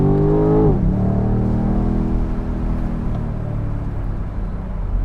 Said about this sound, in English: Let's just try to listen to the engine sound and the exhaust